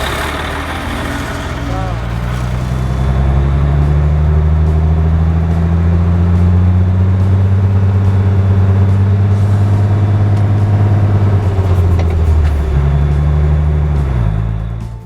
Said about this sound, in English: Accelerate the vehicle to the desired speed